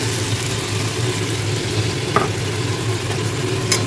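Boiled ground meat fries in a pan with sour curd and oil, giving a steady, continuous sizzle with occasional faint stirring scrapes, close and even throughout.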